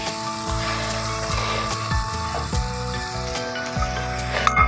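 Moong dal tipped into a pan of fried, oil-releasing spice paste, giving a steady, close hiss and crackle of frying that runs throughout with a low background hum.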